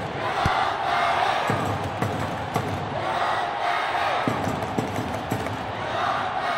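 A large stadium crowd roars and cheers continuously in the football video game Winning Eleven 5 (2001), a dense wall of voices with occasional sharp thuds and bangs cutting through.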